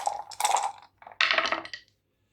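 Dice rattle and clatter in two quick bursts as three are rolled during a Memoir '44 board game, close and crisp, with a short pause between throws and silence after.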